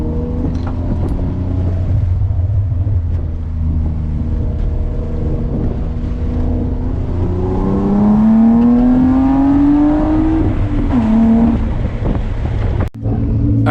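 A BMW E36 drifting on track roars with a loud, sustained engine note, revs rising and falling through a long sweeping slide, with wind buffeting the microphone throughout and a brief dropout near the end.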